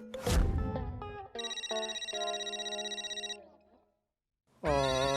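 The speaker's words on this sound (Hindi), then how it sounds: "गया माधवी का फोन" A phone ringtone plays a bright electronic melody with pulsing repeated notes, stops briefly, then starts again loudly.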